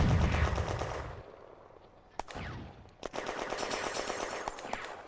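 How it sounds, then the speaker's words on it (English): Sustained machine gun fire in the Firefight tactical war game, set at the May 1940 Remilly bridgehead, rattles as dense, loud bursts, with sharp louder shots cracking through near the middle and toward the end. "Sanchez puts machine gun fire into them from the hill opposite."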